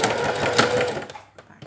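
A sewing machine staystitches a shaped facing along a neck curve with a steady close whir that stops about two-thirds of the way through, while a person talks over it.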